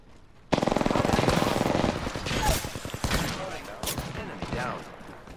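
Rapid machine gun fire rattles loudly in a video game battle, a dense burst of close shots that keeps going and then thins into scattered, choppier bursts toward the end.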